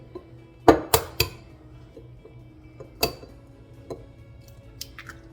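Eggs cracked into chocolate chip cookie dough in a bowl: a few sharp clinks and taps near the start, another knock midway, then quieter scraping in a calm kitchen with no talk.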